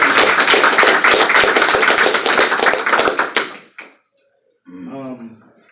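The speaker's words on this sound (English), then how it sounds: "let's just give a round of applause for black women." Audience applause honoring Black women at a multicultural awareness event, a dense burst of clapping for about three and a half seconds that quickly dies out, followed by a brief voice.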